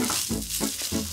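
Onions frying in a pan, a bright hissing sizzle broken by a few stirring scrapes at a steady pace, close and moderately loud.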